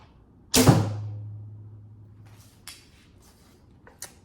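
A single arrow loosed from a 56-inch takedown bow with no nock point or tab: a sharp snap of the string, then a low humming vibration that fades over about two seconds, followed by faint rustles.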